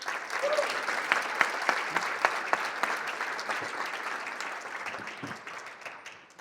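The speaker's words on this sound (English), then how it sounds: "Let's give these guys a round of applause" Applause from the audience at a JROTC leadership breakfast, a steady dense patter of many hands with sharper claps standing out, sustained for several seconds at moderate room distance.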